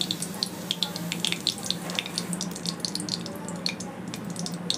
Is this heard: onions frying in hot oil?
yes